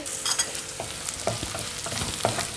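Onions and dried chillies fry in a pan with a close, steady sizzle, broken by scraping stirs and a few sharp clacks of a utensil against the pan.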